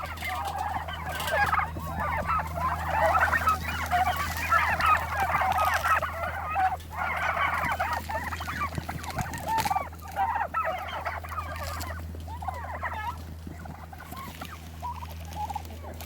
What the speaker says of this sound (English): Oh, cheeky little turkey.